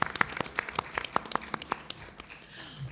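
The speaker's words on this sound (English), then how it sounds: "Can we have a round of applause for all the award winners and the jury members here?" Brief scattered applause from a small press conference audience announcing national film awards, a handful of distinct claps spaced out over a few seconds, fairly quiet and thinning toward the end.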